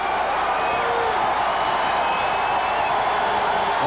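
A large football stadium crowd roars steadily at a 1989 Clemson at Virginia Tech college game, a dense and continuous wash of cheering that holds at a high level throughout.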